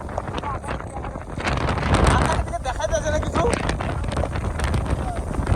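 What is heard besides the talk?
strong stormy wind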